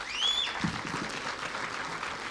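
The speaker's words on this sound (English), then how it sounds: "Give them a clap," Moderate, steady clapping from a gathered audience for board members at a public event, with a faint whistle near the start and a brief voice or cheer briefly surfacing early on.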